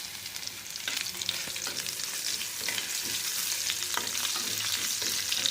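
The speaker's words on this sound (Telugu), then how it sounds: "ఇది కాసేపు అయితే వేగాలి పోపు అయితే వేగిపోయిందని" Oil sizzles steadily as curry leaves, asafoetida and garlic fry for tempering, with a constant crackling hiss and a few sharper pops and spatters close by.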